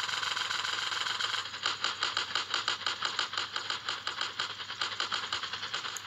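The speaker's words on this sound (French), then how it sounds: "Vous entendez son bruit d'hélicoptère?" Helicopter engine in a video game, a quiet, rapid rhythmic chopping pulse that sets in after a faint steady hum, continuing evenly at low volume with no speech over it.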